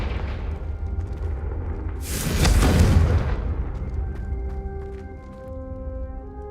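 A Confringo spell cast in Hogwarts Legacy bursts into a loud fiery explosion with a deep rumbling boom that swells and then fades into lingering crackles and ambient tones.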